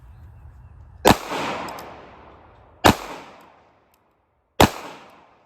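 Three sharp, loud gunshots from a small NAA Mini 22 Magnum revolver, each a crisp crack with a short echoing tail, spaced evenly about two seconds apart with no talk.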